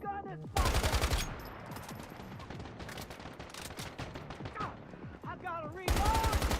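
Rapid automatic gunfire in the video game Once Human, a short loud burst at the start and another at the end, with quieter clattering game sounds between.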